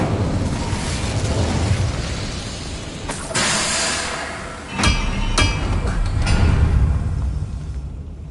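The Incendio fire spell in Hogwarts Legacy fires off in bursts of blazing whooshes and sharp booming pops, several loud hits landing between 3 and 7 seconds over a rumbling, crackling game backdrop.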